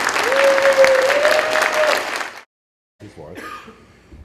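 Audience applause for a speaker at a skeptics' conference talk, a dense burst of clapping lasting about two seconds and then cutting off, followed by a brief murmur and a cough.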